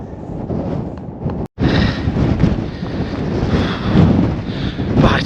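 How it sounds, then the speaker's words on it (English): Strong wind blowing across an open hillside in Northumberland's Simonside Hills, a loud steady roar buffeting the microphone for several seconds, broken by one brief dropout. "Ah, it's windy."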